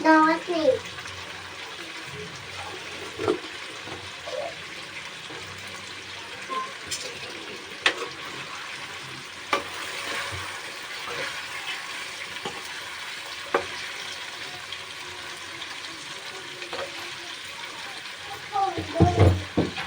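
Fish pieces frying in a pan with cumin, turmeric and salt, a steady hiss of sizzling oil with occasional scrapes and clinks of stirring, a few brief louder clatters near the end.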